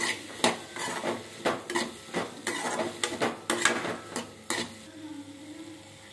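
Ginger garlic paste is sautéed for paneer butter masala, a spatula clanking and scraping against the pan in quick, uneven strokes before settling into a quieter pause.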